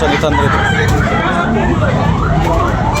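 Roosters crow at a cockfight sale in Tabunok, with long rising calls over a loud, dense crowd murmur and people talking throughout.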